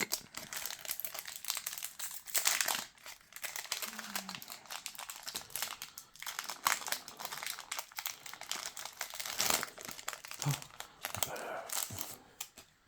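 A Pokemon card pack wrapper being opened, with steady close crinkling and crumpling of foil plastic and a few sharper tearing bursts running through the whole stretch, no speech over it.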